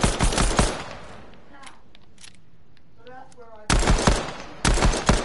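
Weapon fire in a PS4 video game comes in loud rapid bursts of gunshots at the start and again near the end, with a quieter stretch and a few faint tones between them.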